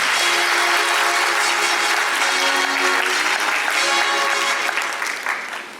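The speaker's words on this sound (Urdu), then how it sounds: "آپ تمام ٹیچرس کے لیے اور ان کے لیے ایک بار پہلے تالیاں بجائیں" Audience applause for teachers at a Teachers Day education session, a loud sustained roar of many clapping hands with a faint steady tone underneath, tapering off slightly at the end.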